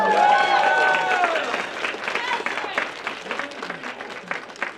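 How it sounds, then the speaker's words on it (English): An audience at a Zeldathon grand finale charity gaming marathon claps loudly. The applause starts dense and strong, then thins into scattered claps while a voice talks over it. "Can we get a big round of applause for the whole dev team?"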